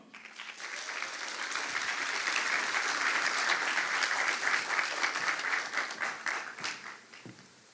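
Sustained audience applause fills a ceremony hall at a Kimmy Duong Foundation scholarship award event in Southern California, swelling steadily and holding at full strength before tapering off near the end.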